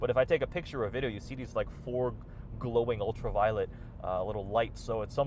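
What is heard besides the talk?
No everyday noise stands out behind the speech.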